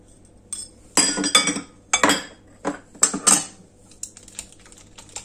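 Ingredients for gluten-free coconut and cocoa ghoriba biscuits are mixed in a bowl, giving a run of sharp clinks and scrapes from utensil against dish, several loud bursts close by with short pauses between.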